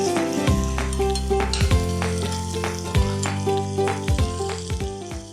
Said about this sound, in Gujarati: જો આ પેસ્ટ સંતળાઈ જાય છે જોડે જોડે આપણને લીમડાનો કલર બી આમાં એડ થતો જશે ગ્રીન.